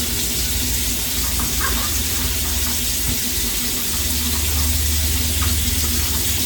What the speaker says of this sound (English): Trim it a bit, and then I'm gonna wash them.